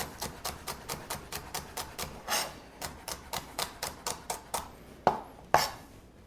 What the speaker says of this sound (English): while the pecans are cooling, I'm going to chop up the veggies